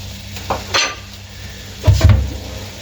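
A metal lid clanks onto a chicken karahi pot while it cooks, giving a sharp clink followed by a heavier rattling clatter near the end over a faint background hiss.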